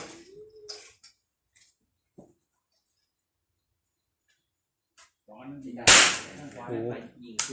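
A CZ 457 AT-ONE rifle with a 24-inch barrel fires at a range, one sharp, loud crack standing out after a quiet stretch, with someone talking around it.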